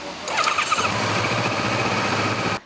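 A police patrol motorcycle in Chernivtsi, Ukraine, starts up and settles into a steady, loud engine drone that runs nearly the whole time, close by, with no talk over it.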